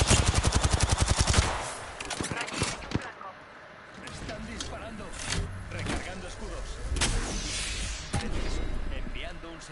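Rapid automatic gunfire in the video game Apex Legends, a loud fast burst of shots at the start followed by scattered shots and game sounds, with someone talking through it.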